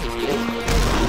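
A loud crash from a train wreck in a video game hits partway through, a dense smashing burst over steady game noise, close and full.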